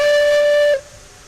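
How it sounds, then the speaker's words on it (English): Locomotive steam whistle blown from the cab in the train game Railroads Online, a loud steady tonal blast lasting under a second before cutting off abruptly into faint background. "look at the whistle lever located inside Betsy's cab"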